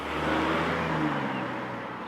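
A 2020 Jaguar XE P250 petrol rear-wheel-drive sedan drives and accelerates, its engine giving a steady, full-bodied hum that rises slightly then settles, heard close and fairly loud without talk.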